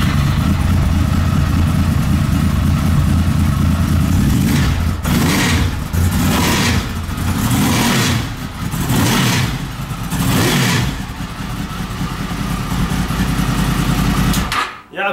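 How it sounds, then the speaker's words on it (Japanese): A Honda VFR800 V4 motorcycle fitted with an aftermarket TSR slip-on exhaust, loud and close, idling with a steady rumble and then blipped through several sharp revs that rise and fall. The engine runs alone with no talking. "V4 らしい音がしますね。"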